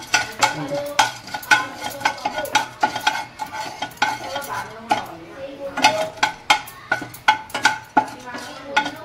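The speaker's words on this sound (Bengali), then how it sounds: "4-6টা আমি এলাচ ভেজে নেব, একটুখানি জাস্ট গরম করে নেব" Cardamom pods, four to six of them, dry-roasted briefly in a pan, with busy scraping and stirring clatter of a utensil against the metal and a faint crackle underneath, close and fairly loud throughout.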